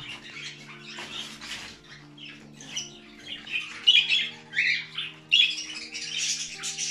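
Harsh, repeated squawks from an unwell, lethargic budgerigar with egg binding, arriving in irregular bursts that grow louder toward the end, with faint rustling and no speech.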